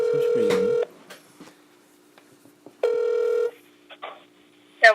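A phone call being placed: a loud electronic ringback tone sounds in two long bursts separated by a quiet pause, with brief beeps and a voice answering at the end.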